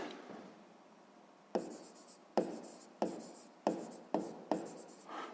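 Handwriting of an equation for a sixth-grade maths problem about a tourist's distance: a faint, steady scratch broken by six or so crisp taps as strokes begin, close up with no voices.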